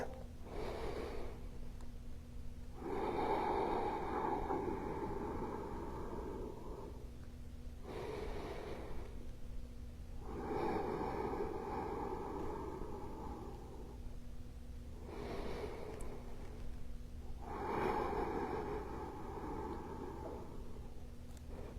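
Deep breathing during a bodyweight bootcamp workout: three slow, full inhale-exhale cycles, each a long airy rush of breath close to the mic, separated by short quiet pauses.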